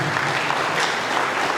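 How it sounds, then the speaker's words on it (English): An audience applauds the Dean at a public health institute induction ceremony, a brief, dense burst of continuous clapping heard close and loud. "Please, another applause for the Dean."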